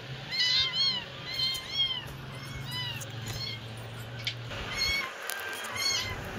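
Several hungry cats meow for food, giving repeated insistent, close meows in bursts over a low steady background hum.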